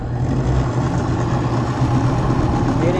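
Engine idling while powered through water fuel cells, a steady, loud low rumble that holds without change throughout, with no talk over it.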